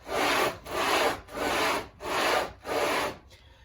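A cylinder head is rubbed back and forth on sandpaper by hand, making five loud, even abrasive strokes in a steady rhythm, each followed by a brief pause.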